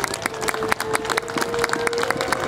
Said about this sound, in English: how about a round of applause for our military today?